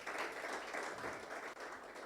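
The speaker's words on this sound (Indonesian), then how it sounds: "Beri tepuk tangan bagi kemuliaan Tuhan," Church congregation applauding during a worship service at WTC Kota Wisata, a steady, dense wash of clapping that holds at moderate level for the whole stretch, fairly distant and even.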